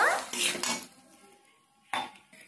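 Sugar goes into a pot of amla pickle, with a few close metallic clinks and scrapes of a spoon against the pot and a quiet stretch between them.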